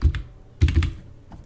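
Computer keyboard keys tapped while entering a one-time passcode on a housing scheme application form, two quick clusters of close, crisp clicks with a faint tap at the end.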